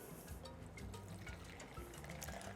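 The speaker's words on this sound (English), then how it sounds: "I'm adding lukewarm water in the middle, just making a little well in the middle" Lukewarm water is poured into a well in flour for Trinbagonian doubles dough, a soft, quiet trickle and splash continuing steadily, close by and without any voices.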